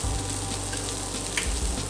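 Garlic and ginger sizzle steadily in hot oil in a pan, a close, continuous crackling hiss with a brief stir partway through.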